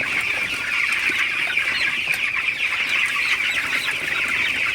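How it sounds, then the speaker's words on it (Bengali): A flock of broiler chickens clucks and chirps continuously, a dense busy chatter of many birds close by with no pauses. "মুরগিগুলোকে একটু তাড়াই দিতেছি যাতে একটু খাবার খাই"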